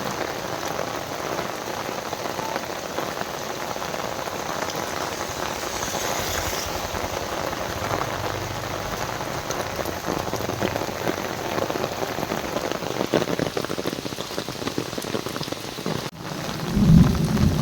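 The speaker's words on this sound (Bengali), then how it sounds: "আজ মনে হচ্ছে সারাদিনই এইভাবেই বৃষ্টি চলবে" Steady heavy rain hisses and patters throughout, with low thunder rumbling in the background and a louder thump near the end.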